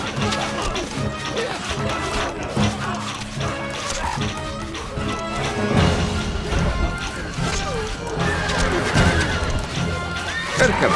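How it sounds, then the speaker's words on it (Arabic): Horses neighing and hooves galloping in the Stronghold Crusader strategy game, loud whinnies over clip-clop and clashing battle noise, with brief spoken game lines mixed in. "الفرس تعدو"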